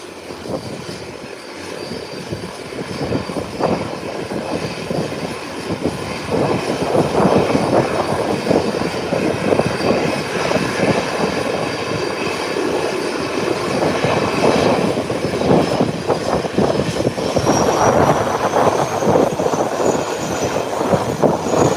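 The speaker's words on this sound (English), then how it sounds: "And the Twin Otter is now moving, taxiing away, heading to the runway." A Twin Otter propeller plane taxis toward the runway at an airport, its engines giving a steady, loud broadband drone that swells slightly partway through and holds for the whole stretch, with no voices.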